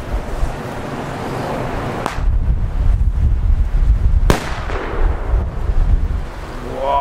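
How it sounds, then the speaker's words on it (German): Strong wind buffets and roars across the microphone outdoors at a fireworks session in the Czech Republic, a loud continuous rushing broken by two sharp firework bangs. "Boah, der Wind."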